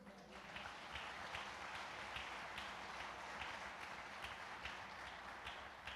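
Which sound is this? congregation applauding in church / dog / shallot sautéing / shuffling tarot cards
congregation applauding in church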